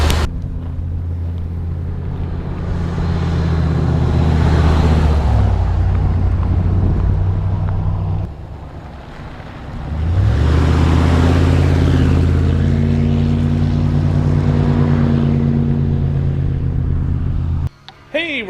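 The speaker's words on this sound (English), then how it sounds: "So when it warms up, obviously the idle will go down." A 1991 Chevrolet Suburban 2500 4x4 engine idles while warming up, with a steady low rumble that briefly dips and rises again, heard loud and close with wind buffeting the microphone.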